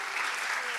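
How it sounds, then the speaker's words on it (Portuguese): A church congregation applauds a worship music group, a steady broadband wash of clapping throughout this short moment with no voices standing out. "Pode aplaudir esse grupo de música aqui."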